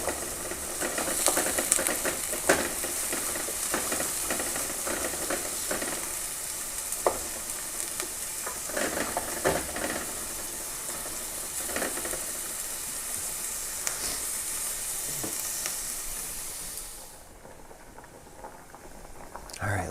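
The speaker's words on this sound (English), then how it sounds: "you want to saute these onions until they're golden" Onions sizzle and fry in olive oil in a pan, a steady loud hiss with occasional crackles and stirring scrapes, under intermittent talking, fading quieter near the end.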